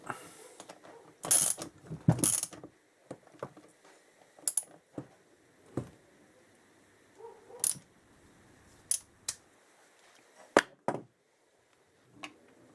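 Ratchet on the nut of a 1965 Triumph TR6 Trophy motorcycle kickstart lever, clicking in several short close bursts separated by pauses, loud and crisp with no talk.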